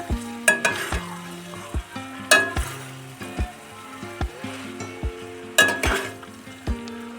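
Aloo gobhi sabzi sizzles in a pan while a spoon stirs and scrapes through it, with a steady frying hiss under repeated sharp metallic knocks and scrapes, close by and with no one speaking.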